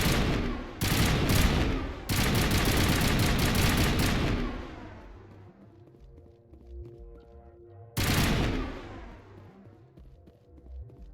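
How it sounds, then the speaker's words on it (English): Assault rifle bursts in the video game Mass Effect: sharp, loud automatic rattles in two long volleys, then a ringing tail and echoing decay before another short burst, with no talking. "Always gotta make the assault rifle scary."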